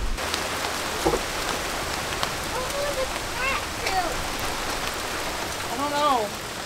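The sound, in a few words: rain falling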